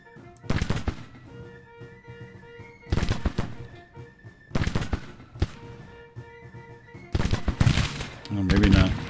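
Musket volleys in the Grand Tactician: The Civil War strategy game at Wilson's Creek, heard as several loud crackling bursts of massed fire at roughly two-second intervals over a faint background of battle ambience.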